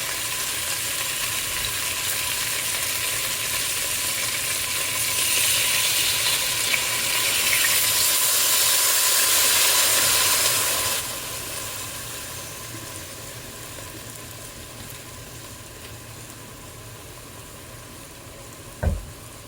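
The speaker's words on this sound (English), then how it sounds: "it's simmering there really nice" Dry wine poured into a hot chicken and chickpea skillet sizzles steadily, swelling louder for several seconds before settling into a quieter, even simmer over low heat, with a brief knock near the end.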